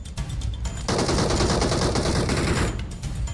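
BGMI gunfire: a loud, close automatic burst rattling continuously for a couple of seconds, framed by shorter shots before and after, with no talk.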